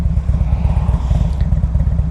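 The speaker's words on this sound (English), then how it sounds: "when the bike's sitting and you're revving up" A 2003 Harley-Davidson FLHTP police motorcycle's V-twin engine idles and revs while the bike sits stationary, giving a loud, steady, lumpy low rumble with rhythmic pulsing throughout.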